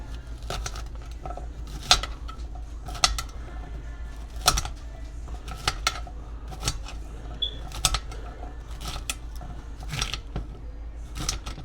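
A utensil chops big pieces of squash in a pan, making a string of sharp, irregular clacks and scrapes spaced a second or so apart, fairly quiet overall.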